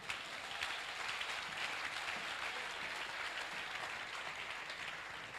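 A church congregation applauds, a dense, continuous clapping from many hands that stays steady and fairly distant throughout, with no speech over it.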